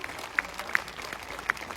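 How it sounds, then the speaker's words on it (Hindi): An auditorium audience applauds at a motivational talk in Suratgarh, a steady patter of clapping with a few sharp, distinct claps standing out. "जोरदार तालियों और ऊर्जा के साथ में डॉक्टर गणपत सिंह जी राजपुरोहित"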